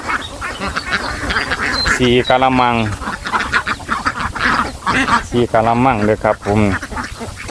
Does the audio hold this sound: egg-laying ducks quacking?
yes